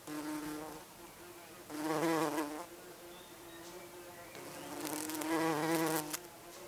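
Insects buzzing around flowering turnip plants, a steady droning hum that swells louder twice as insects pass close, then fades back to a softer background buzz.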